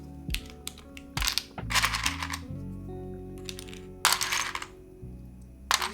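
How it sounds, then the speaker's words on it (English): Plastic GMK keycaps clack and rattle as they are sorted through trays, with scattered sharp clicks and short bursts of jostling, fairly close and loud, no talking. "Sorry, I'm going through all these keycaps,"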